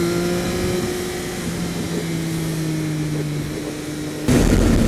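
A Triumph Speed Triple RS motorcycle engine pulls hard under acceleration, a loud steady howl with a gently falling pitch, ending in a sudden louder burst of wind and engine noise.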